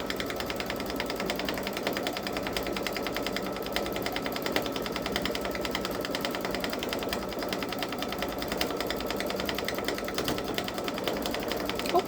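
A Babylock Solaris Vision sewing machine runs continuously, stitching edge-to-edge quilting on a turtle seascape panel in a large hoop, with a fast, even mechanical needle rattle and motor hum at close range.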